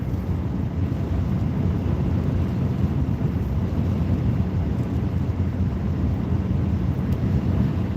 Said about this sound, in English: Pretty windy too.